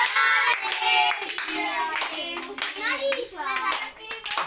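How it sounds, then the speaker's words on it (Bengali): Hands clap repeatedly at a family birthday celebration, the sharp claps mixed with children's and adults' voices. "হাততালি দাও মা"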